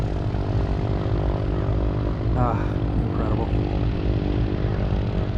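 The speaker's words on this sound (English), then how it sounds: "Like our blue plane was cleared for takeoff." A propeller plane takes off at Santa Monica Airport, its steady droning engine roar filling the whole stretch at high level while a person speaks briefly over it.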